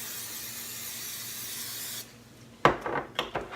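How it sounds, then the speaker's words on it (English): Cooking spray is hissed onto a muffin tin in short bursts after a steady background hiss, with the can's close, sharp spray sounds and small rattles near the end. "we're going to spray our muffin tin so that nothing sticks in it"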